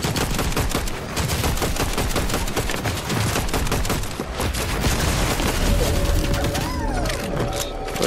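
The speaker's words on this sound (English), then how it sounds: "Where's the guy that you're shooting at?" Gunfire during Fortnite ranked play: rapid, repeated loud shots in close succession, almost continuous bursts throughout, with a faint voice briefly audible.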